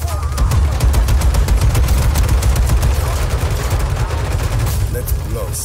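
Rapid gunfire in Just Cause 3, a dense continuous stream of automatic shots close and loud, sustained for several seconds with a steady crackling rhythm.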